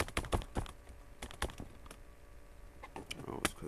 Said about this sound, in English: it's because that fucking rubber band I got on this keyboard